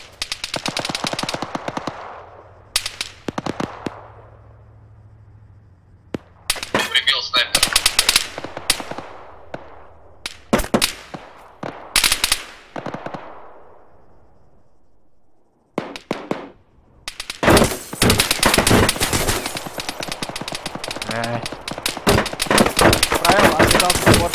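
Bursts of rapid automatic gunfire and single shots in Arma 3, loud and close, separated by short pauses, ending in a long sustained barrage.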